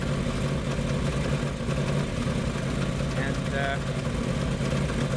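Truck engine idling on wood gas from a gasifier during a cold start, a rough steady rumble with uneven pulsing close by, a voice briefly audible over it.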